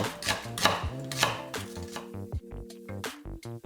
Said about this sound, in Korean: 먼저 양파 반 개는 굵게 채 썰어서 담고